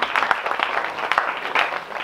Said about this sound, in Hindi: श्रुति झा मैम, जोरदार तालियों से स्वागत करेंगे हम।